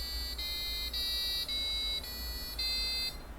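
A thin piezo buzzer driven by an Arduino beeps out a do-re-mi sequence of sustained tones, stepping through several notes in turn, faint over a low background hum.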